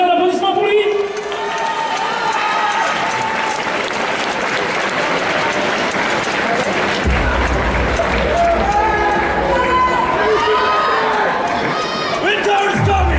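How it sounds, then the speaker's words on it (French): Indoor festival crowd at a Sunday cosplay contest greets a Ned Stark cosplayer with a sustained roar of applause, cheers and whoops, while a low musical beat kicks in partway through. "un tonnerre d'applaudissements pour lui"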